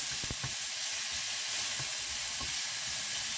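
Bacon lardons, onions and cherry tomatoes frying in a pan, giving a loud, constant sizzle and hiss with a few soft pops and stirring knocks, close and uninterrupted, no voices.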